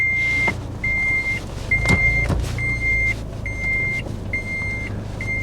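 A kei car idling while being maneuvered into a parking spot, with a steady low engine hum, a bright repeating beep chiming at regular intervals about every second, and a few clunks from the controls.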